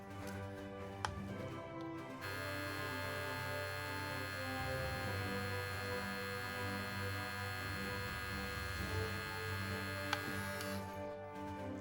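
A Babyliss Pro Skeleton FX replica hair trimmer runs steadily at high speed, a close, continuous electric buzz after a quieter start, with a couple of faint clicks and no talking.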